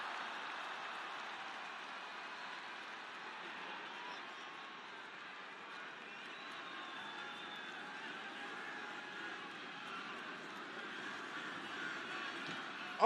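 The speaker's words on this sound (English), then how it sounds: "They cheering for him." A wrestling arena crowd cheers in a steady, distant wash of noise that holds for over ten seconds, faint and continuous like far-off applause.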